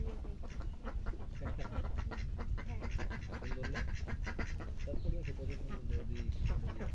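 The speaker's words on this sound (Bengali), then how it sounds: "এই যে হাঁসগুলো দেখো একটা বেটা হাঁস আর সব বেটি হাঁস দেখো" A flock of ducks, one drake among females, quacks continuously and close by, many overlapping calls forming a busy, rhythmic chatter.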